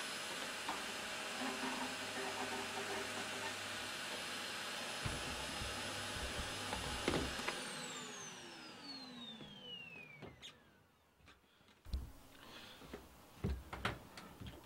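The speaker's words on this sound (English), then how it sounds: "I'm just going to get the vacuum cleaner on and get some of this soot" A vacuum cleaner sucking soot from a stove runs with a steady whooshing drone, then winds down with a falling whine, followed by scattered clunks and knocks.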